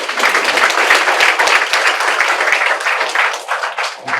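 An audience at a political speech event breaks into loud, sustained applause, a dense wash of clapping that carries on steadily and fades slightly toward the end.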